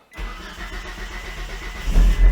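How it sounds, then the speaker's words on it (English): An Eagle Talon fires up for the first time after a twelve-year restoration: a brief crank, then the engine catches and settles into a loud, rough idle with a couple of deeper surges near the end. "we got to start the car and let it warm up"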